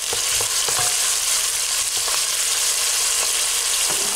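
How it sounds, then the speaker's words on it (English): Onion and garlic sauté in a pan with olive oil for Greek stuffed vegetables, giving a steady, close sizzle with a few light clinks and stirring scrapes and no talking. "add the onion to sauté, the garlic, sauté"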